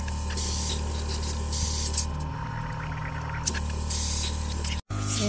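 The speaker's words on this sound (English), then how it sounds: "I'm going to spray it out." An airbrush sprays water out in a continuous hissing stream during cleaning, close and steady with brief pauses and a short cutoff near the end.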